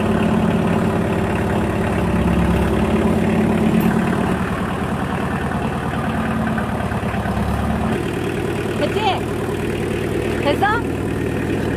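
A tractor engine idles steadily close by on a farm, a continuous low, chugging rumble that never lets up over the whole stretch.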